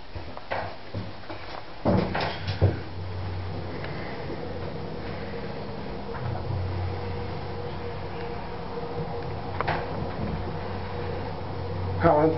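Elevator rising three floors inside a factory building, a low steady motor hum running throughout with occasional clunks and rattles of the car, a sharper knock near the start, close and moderately loud.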